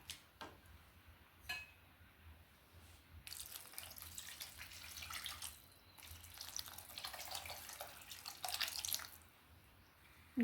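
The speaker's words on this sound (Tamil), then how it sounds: "குழம்புக்கு தேவையான தண்ணி ஊற்றிக்கலாம்" Water splashes and pours in bursts into a pot of sundakkai curry after a few quiet drips and clinks, the stream starting and stopping against the cooking pot.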